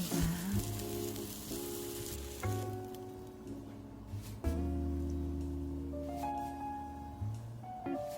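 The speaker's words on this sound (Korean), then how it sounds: "조심스럽게 뒤져주면서 노릇노릇하게 구워주면 완성입니다." An egg dish pan-frying until golden, a soft steady sizzle and crackle beneath a bright, prominent music track with no talking.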